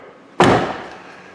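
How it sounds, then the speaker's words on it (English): A car's rear passenger door on the driver's side, with a newly replaced latch, slams shut in one loud, close thud that decays quickly into quiet. "Now we're going to go ahead and shut the door"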